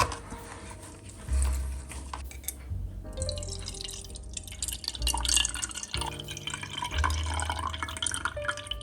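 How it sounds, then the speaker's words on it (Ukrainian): Oranges squeezed by hand for juice in a home kitchen while preparing a dessert, giving a steady wet dripping and squishing that runs close and continuous with no talk. "Та вичавлюємо сік."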